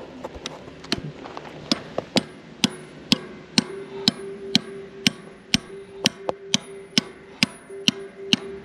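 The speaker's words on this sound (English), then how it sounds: "you can just use a sledgehammer and you can tap it in" A sledgehammer taps 3/8 rebar into concrete for a DIY gate build, sharp metallic strikes at a steady, fairly quick rhythm with a faint ringing tone between blows.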